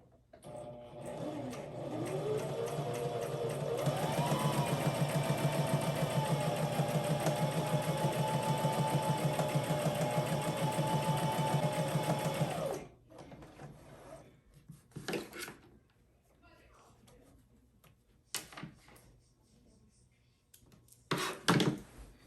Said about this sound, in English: Now the next thing I'm going to do, to start sewing, I'm just going to push on the foot and control this like so.